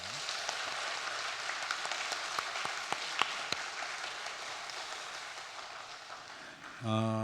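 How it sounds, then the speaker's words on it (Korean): Quiet, crackling applause from a church congregation thanking a visiting pastor at a Sunday praise service, a soft even patter of many hands, with a voice cutting in at the very end. "우리 감사의 박수 한번 드리겠습니다"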